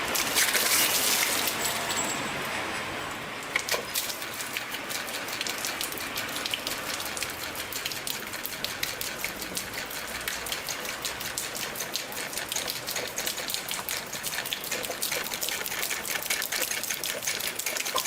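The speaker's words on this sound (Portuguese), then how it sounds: "Então o carneiro hidráulico está funcionando." A working hydraulic ram pump pumping water gives off a rapid, steady, rhythmic clacking from its valve over a continuous rushing, splashing water noise, close by and sustained.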